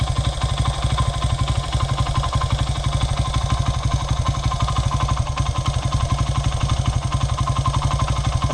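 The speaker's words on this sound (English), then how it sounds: "I feel like it's running with a choke on right now." A motorcycle engine running with the choke on, a rapid, even, loud chugging beat at close range that holds steady throughout, with no speech.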